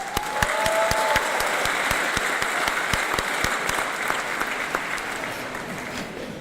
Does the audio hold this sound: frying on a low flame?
no